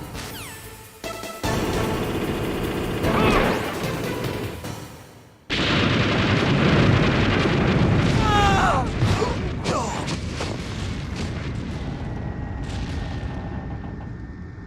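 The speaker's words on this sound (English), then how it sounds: "Try to aim at the upper hatch with your grenades" Grenade explosions batter an M1 tank in the Metal Gear Solid game, heavy booms over rumbling machinery and game sound effects, loud and dense with one sharp cut midway.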